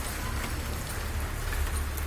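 Rain falls steadily over Meerut during a storm, with a constant close patter and a low rumbling undertone.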